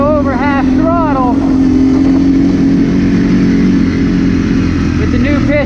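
A freshly rebuilt 2006 Arctic Cat 400 engine with new piston and rings runs at a steady, loud, held break-in throttle, with someone talking briefly over the drone at the start.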